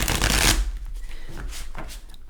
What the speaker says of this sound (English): You're going to hear the shuffling in between.